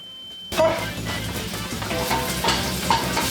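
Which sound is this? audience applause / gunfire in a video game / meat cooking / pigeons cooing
meat cooking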